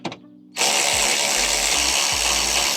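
A power tool spins off bolts on a 2025 Honda Civic Si during a front mount intercooler install, a loud close continuous whine starting after a brief lead-in, with low ratcheting bumps as the bolts break loose.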